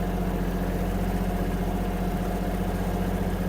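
A Kubota GL-21 Japanese long-wheelbase mini tractor engine runs with a steady, even low hum and a constant drone, close and uninterrupted, with no talk.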